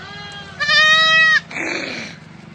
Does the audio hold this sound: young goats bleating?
yes